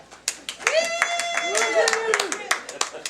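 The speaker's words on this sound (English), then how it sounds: "Everybody, give a warm applause for Eric Muller." Audience at an open mic night clapping for a performer, sharp claps running steadily throughout, with raised voices and whoops riding over the applause.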